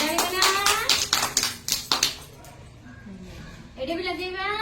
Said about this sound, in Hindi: ताली बना